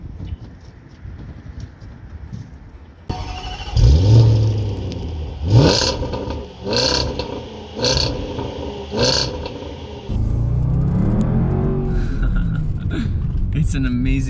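A 2020 Range Rover Sport Autobiography revs hard, its engine roaring up with a rising whine and a series of sharp popping bursts from the exhaust, loud and close, with someone talking over parts of it.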